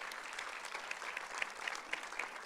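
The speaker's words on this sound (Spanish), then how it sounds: "damos ese aplauso al Señor" A church congregation clapping during a Sunday service, a soft, steady patter of many hands heard from a distance, with no voices over it.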